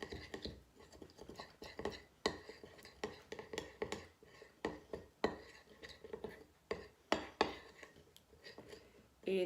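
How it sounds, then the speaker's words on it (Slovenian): Two hair-mask ingredients are stirred together in a bowl, giving repeated close scraping and light clinking strokes in an irregular rhythm, fairly quiet throughout. "Obe sestavini zmešamo v homogeno zmes"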